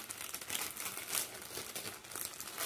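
Plastic bag crinkling as craft diamonds are poured and shuffled inside, close and fairly quiet, with irregular rustling bursts and no talk.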